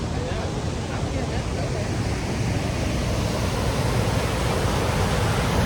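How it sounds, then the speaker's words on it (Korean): Sol Duc Falls in Olympic National Park pours in a dense, unbroken roar of rushing water, loud and close, filling the whole stretch with steady white noise. "여기가 솔덕 폭포입니다."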